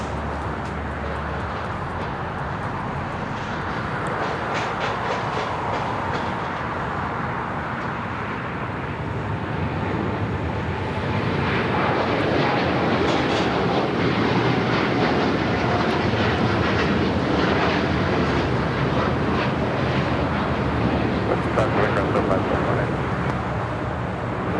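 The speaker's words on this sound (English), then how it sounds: "How about a heavy Dreamliner taking off?" A heavy United Boeing 787-9 Dreamliner takes off from runway 25 Right at Los Angeles International Airport, a broad steady engine roar that swells louder in the second half, with a voice talking over it.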